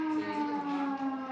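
A civil defense siren sounds during Ramadan to mark the end of sehri, a steady sustained wail heard alone, loud and constant throughout.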